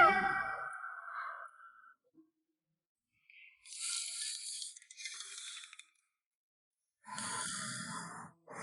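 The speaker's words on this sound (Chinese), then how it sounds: "怎会有女人打呼噜如此大声？" A woman snores loudly in three long, rasping breaths separated by short silent gaps, close and alone with no talking.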